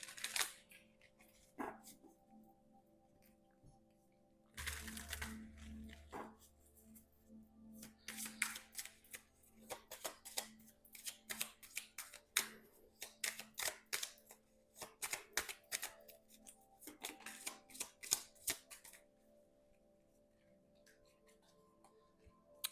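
Cosmic Oracle cards being shuffled by hand in quiet surroundings, bursts of crisp riffling and slapping that come in clusters with short pauses between them, fairly close and without talk.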